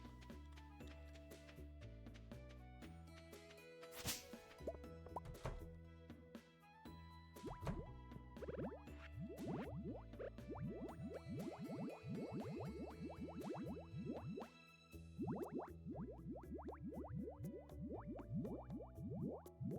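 Containers being filled with water in Stardew Valley: quick, bright drips and plops repeat through a game music bed, with dense bursts in the middle and toward the end.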